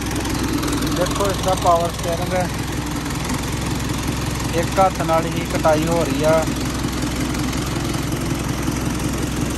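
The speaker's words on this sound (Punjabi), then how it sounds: "ਸਟਾਰਟ ਕੀਤਾ ਆਪਾਂ ਟਰੈਕਟਰ" A restored Bailaras tractor fitted with original parts runs its engine in a steady low rumble beneath someone talking throughout.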